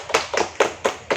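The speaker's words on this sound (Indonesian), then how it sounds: "tepuk tangan buat kalian." A school class claps hands in a brief rhythmic burst, five sharp claps spaced evenly, close and crisp with no talk.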